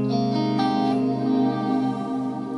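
Line 6 Helix Heliosphere delay with its reverb mix at 100%: a sustained, washy wall of guitar tones with smeared echoes and swirling reverb, loud and continuous without clear attacks.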